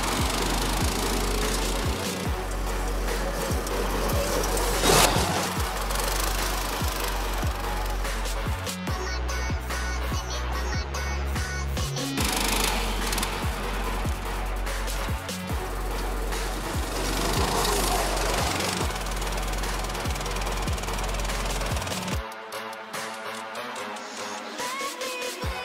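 ATV motordog engines running through dirt, a steady loud mechanical drone with rattling and gear changes throughout, the engine note dropping out near the end.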